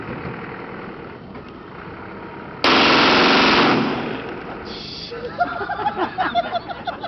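A burst of automatic fire from a Glock assault rifle, loud and continuous for about a second before trailing off, followed by excited voices.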